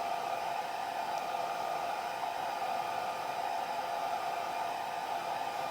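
A hair dryer blows on a wet leather lounge repair, giving a steady, even, close whooshing hum that runs unbroken throughout with no talk.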